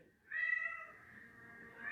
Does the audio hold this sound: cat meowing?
yes